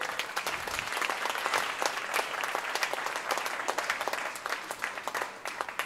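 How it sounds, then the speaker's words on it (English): Audience applause welcoming a speaker to the stage at a charitable event, sustained and fairly dense clapping from a crowd heard at moderate distance. "Let us welcome with a thunderous applause Pastor Matthew Kurian on the stage."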